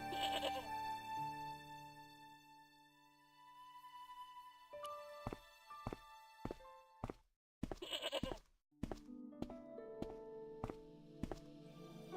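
A goat bleats in the Broken Sword video game, a wavering tonal cry heard first, followed by a series of sharp knocks and thuds spaced irregularly, with no talking.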